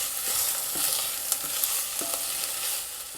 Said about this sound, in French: Maintenant, on peut ajouter les lardons qu'on va pouvoir faire griller quelques instants.